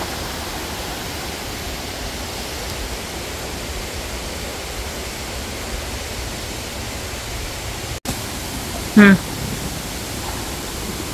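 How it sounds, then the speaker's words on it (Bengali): Kanching waterfall, water cascading down in a forest park, makes a constant broadband rush at a steady level, with a brief sharp click and a short chirp near the end. "পাশে দেখতেছেন যে ওয়াটারফল, ওয়াটার নামতেছে উপর থেকে গড়িয়ে"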